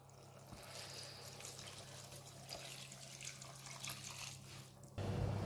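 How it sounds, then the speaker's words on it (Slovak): Water runs steadily from a tap into a pot of tomato cabbage, a continuous hissing splash, close by and fairly loud, with a brief louder gush at the end. "A celé to podlejeme vodou."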